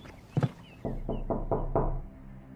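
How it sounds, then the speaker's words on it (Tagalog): Knocking on a wooden door at night in a rural village home, a quick double rap followed by four slower, louder knocks, close and distinct against a quiet background. "Papasok na sana ako sa kwarto nang biglang merong kumatok."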